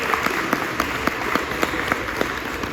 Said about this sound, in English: let's give Octavia Rainey a round of applause